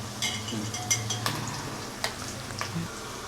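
Onion and ginger-garlic paste fry in a pan with a steady sizzle, while a spoon stirs and clinks against the metal in scattered scrapes and taps.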